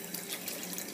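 Tap water running into a laundry sink, a brief steady rushing splash heard up close.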